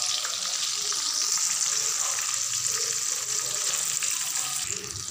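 Chili bhajiya fritters deep-frying in hot oil over a medium flame, a steady dense sizzle that holds evenly close-up for the whole stretch, with faint spatters and light clatter in the background.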